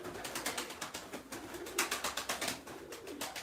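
Pigeons cooing in a loft or aviary, repeated soft rhythmic coos close by, one call following another with a few sharper flutters or scratches, no talk.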